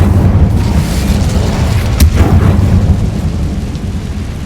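Incendio fire spell in the Hogwarts Legacy video game, a loud roaring, booming burst of flame with a crackling whoosh peaking about two seconds in, then sustaining as a dense rumble.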